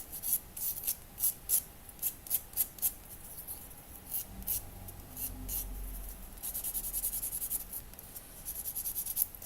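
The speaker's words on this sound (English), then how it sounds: "Try with a piece of sandpaper to get it a little more interesting" Sandpaper rubbed by hand over a small piece for a miniature kitchen build, a series of quick scratchy strokes in an irregular rhythm, close and fairly quiet, with a low rumble partway through and faster continuous rasping toward the end.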